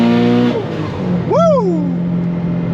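A turbocharged Subaru WRX STI (VA generation, about 800 wheel horsepower) idles, then revs up sharply in a rising roar before settling back to a steady drone; no one speaks.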